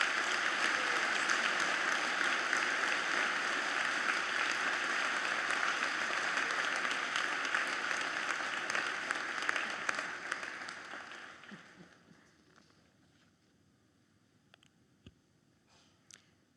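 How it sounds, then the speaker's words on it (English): Convocation audience applauding, a dense sustained round of clapping that swells, holds for about ten seconds, then fades away, leaving a few scattered claps in near silence. "Let's give her a round of applause."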